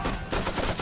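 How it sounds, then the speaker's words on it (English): Battle gunfire, with a loud, dense, close volley of cracking shots packed together in under a second. "Bullets cracking, bombs landing, artillery shells exploding, people screaming"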